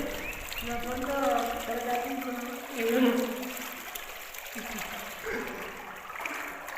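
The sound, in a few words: water gushing under pressure in a farm field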